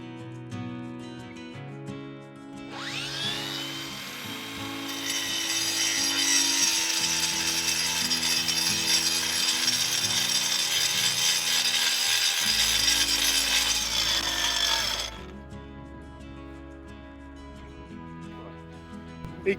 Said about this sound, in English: Just put on a surface grinding disc.